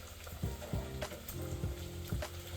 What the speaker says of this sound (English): Now we're going to give that a good stir.